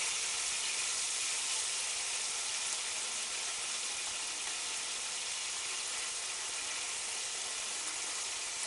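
Pork fillets frying in a pan on a gas hob give off a continuous, even hissing sizzle, fairly soft and steady for the whole stretch with no talking.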